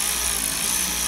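A power tool runs in a brief, steady whirring burst while tightening the headlight bolts on a Fiat Ducato, Peugeot Boxer or Citroen Relay van, close and continuous.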